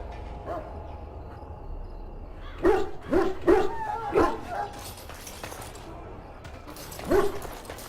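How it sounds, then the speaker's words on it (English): Hounds in a Dragon Age: Origins video game scene bark and yip in a short cluster of sharp calls, then one more bark after a pause, over low ambient background. "I must get the hounds ready for battle. Half the dogs are sick from Darkspawn blood."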